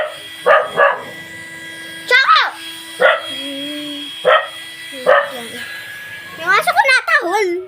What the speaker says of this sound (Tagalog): Yung aso ko natahol.